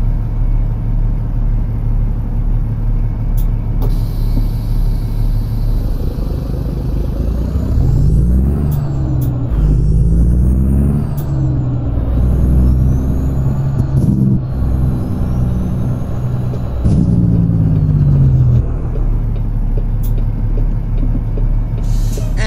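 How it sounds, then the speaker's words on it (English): A Caterpillar C550 truck engine paired with an 18-speed transmission in American Truck Simulator rumbles steadily and loudly, its pitch rising and falling through several gear changes, with sharp air-brake-like hisses and clicks over the drone. "Underneath the hood today we have a Caterpillar C550 along with an 18-speed transmission."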